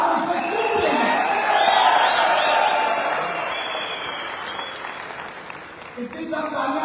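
A seminar audience applauds in a large hall, a dense, sustained wash of clapping with scattered cheers that gradually thins out over several seconds before a brief renewed burst.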